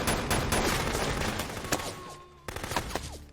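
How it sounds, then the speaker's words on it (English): Gunfire crackles through a movie firefight, rapid sharp shots in quick clusters with ricochet-like tones, a brief lull, then another burst of close, loud reports. "her cover is blown and a firefight breaks out"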